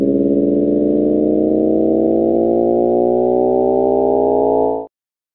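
Simulated sound of a rapidly spinning black hole: a loud, steady synthetic tone with stacked harmonics that slowly rises in pitch for about five seconds before stopping abruptly.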